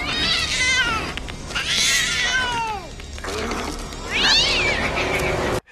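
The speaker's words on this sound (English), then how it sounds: "That cat did not look happy." Distressed cat meowing and caterwauling in a horror film scene, several drawn-out wavering yowls in a row, loud and close, with a faint sound of low speech or background noise underneath.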